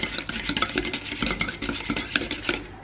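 Egg yolk batter for a chocolate chiffon cake being whisked in a bowl, producing a quick, steady run of scraping and clinking strokes close up, with no voices.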